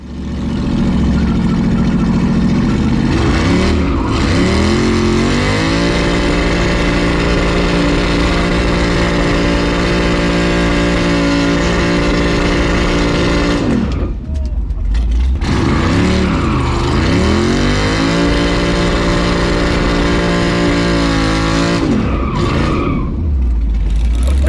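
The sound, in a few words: race motor in the El Camino revving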